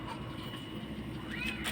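Pet cats begging for food, a short meow-like cry rising near the end over a steady noisy background, with no talk.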